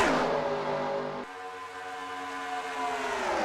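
A tight pack of race cars at Daytona International Speedway in an IROC racing game drones on steadily, the engines blending into a sustained, slightly shifting roar that dips briefly before building again.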